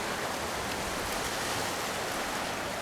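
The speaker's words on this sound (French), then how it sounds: "c'est la cascade" Water cascades over rocks as a waterfall, a dense continuous roaring rush that is close, loud and steady throughout with no voices.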